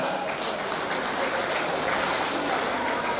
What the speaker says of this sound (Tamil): ஒரு கைத்தட்டல் கொடுக்கலாமா சார்?